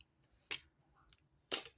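A utility knife cuts through material in two short, sharp slicing scrapes about a second apart, close and crisp, with a fainter tick between them in an otherwise quiet room.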